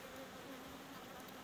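Honey bees buzz at an open hive while the frames are worked before the acacia bloom, a faint, dense, steady hum of many insects close by, with no voices.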